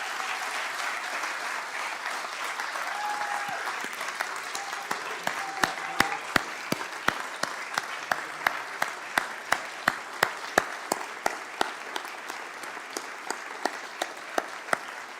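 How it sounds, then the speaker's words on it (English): An audience applauds honored team members at a State of the State address, a broad sustained wash of clapping with sharp individual claps standing out and growing stronger over time, with no talk. "Let's give them a round of applause."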